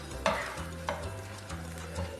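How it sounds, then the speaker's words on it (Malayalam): A spoon scrapes and stirs a spice mix containing roasted ground fenugreek in a pan for fish pickle, giving a few soft scraping strokes over a faint low sizzle, close and quiet. "എന്നിട്ട് നന്നായി ഇളക്കി കൊടുക്കണം"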